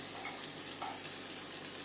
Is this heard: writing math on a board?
no